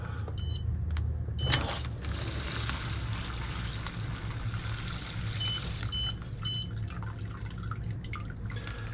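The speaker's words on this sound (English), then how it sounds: "luckily I have this water meter which just will automatically dispense the exact amount of water" An automatic water meter dispenses water into a polytube mushroom-growing setup, a steady close pouring rush with a few brief mechanical clicks and beeps near the start and again later.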